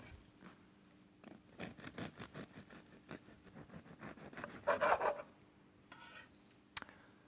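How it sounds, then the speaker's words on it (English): A knife saws through a loaf of bread on a board in a kitchen, giving a run of soft, rhythmic rasping strokes up close, with a few louder scrapes near the end and no talking. "First, slice the bread."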